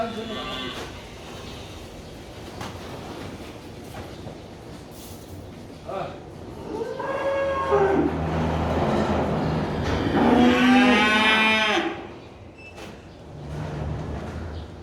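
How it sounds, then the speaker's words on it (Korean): Korean Hanwoo cattle bellow and low while being loaded for sale on a farm, with several drawn-out calls rising over background rumble and people talking nearby. "소가 지금 안 탈라고 그래요."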